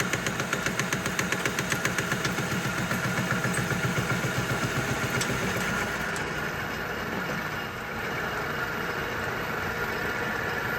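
A lathe cuts a thread on a hydraulic press part during repair: a steady close mechanical hum with a rapid, regular ticking pulse, continuous and with no voices.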